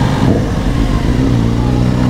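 An Aprilia Tuono 660 four-cylinder motorcycle engine revs loudly and steadily nearby, a deep continuous growl filling the moment.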